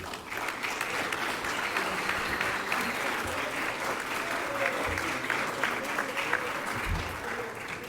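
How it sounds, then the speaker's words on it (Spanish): Sustained applause from a crowd at a ceremony in Guatemala, steady and fairly loud throughout, with dense overlapping claps and no break. "Un aplauso, por favor"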